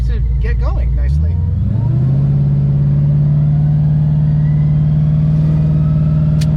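A 2014 Ford GT500 fitted with a Magnaflow Street series exhaust drives by, its engine note rising from a brief idle into a steady, loud droning rumble that holds close and constant.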